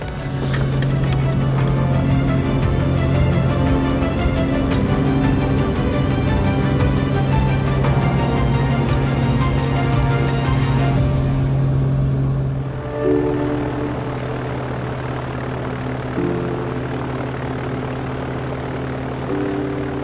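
A small propeller aircraft drones steadily and close by while flying back into town after a scenic flight, its engine tone shifting and easing partway through.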